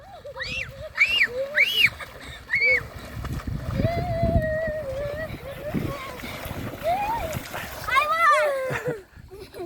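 Children swim, splash and paddle canoes in open water, with voices and shrieks of kids throughout and water splashes and gurgles underneath the lively chatter.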